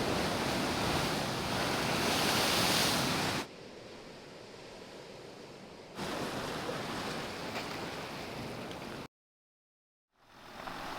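Ocean surf washes steadily at Botanical Beach near Port Renfrew at low tide, a broad continuous hiss and roar mixed with gusty wind buffeting the microphone, broken by abrupt cuts and a brief silence.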